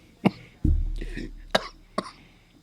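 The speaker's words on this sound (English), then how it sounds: "Man, I wonder when this cough's going to be gone." A person coughs sharply several times, four distinct bursts spaced unevenly and heard up close.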